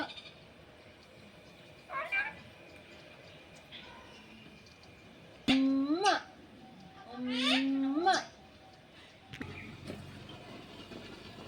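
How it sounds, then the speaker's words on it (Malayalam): A cat meows nearby several times, a short cry followed by longer, drawn-out meows, over a quiet room. "പൂച്ച വന്ന്, ആ പൂച്ച വന്നു പോലെ."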